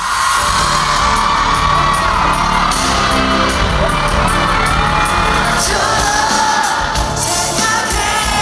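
A packed concert crowd of fans screams and cheers nonstop as the performers take the stage in Hong Kong, a loud, dense wall of shrill yelling.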